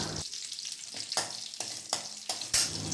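Curry leaves and crushed garlic fry in oil for a banana stem stir-fry, giving a continuous close crackling sizzle punctuated by about six regular stirring strokes.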